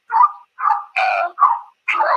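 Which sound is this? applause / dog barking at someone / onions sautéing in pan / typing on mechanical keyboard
dog barking at someone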